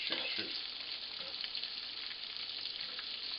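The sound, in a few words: chicken pieces frying in a pan, being flipped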